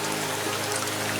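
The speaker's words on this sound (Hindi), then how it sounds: "अरे बारिश तो आज भी सारा दिन ही नहीं रुकी" Cartoon rain falling steadily, a dense even patter of drops over a low steady hum, continuous and moderately loud for a brief moment.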